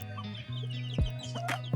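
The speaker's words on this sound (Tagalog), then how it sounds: "pasilip ko lang ang tira kong alagang mga manok ngayong 2026" Pet chickens, a backyard breeding flock, cluck softly and close by, with a few short, sharp calls and a low steady hum underneath, brief and fairly quiet.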